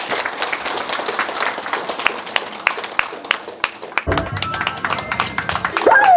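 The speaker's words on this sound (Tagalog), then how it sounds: "Tawan naton sanda it mabaskog nga palakpak." Scattered clapping from an audience before a primary school pupils' dance number at a Christmas event, thin and uneven with distinct individual claps, swelling briefly near the end alongside a bit of voice.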